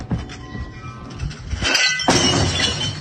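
A Jack Daniel's glass shatters in a sudden crash with scattering shards, set against steady background noise and followed by continued rough, noisy clatter.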